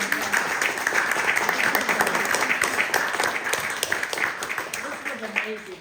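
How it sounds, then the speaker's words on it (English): Sustained applause from a tour audience at an artist's home studio during a historical society visit, a dense steady wash of clapping lasting throughout and gently tapering near the end. "We need to give Kris a big round of applause"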